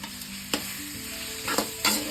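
Grated raw mango sizzles with chana dal, cashews and green chilies in a pan for mango rice, a steady fry interrupted by a few sharp stirring scrapes.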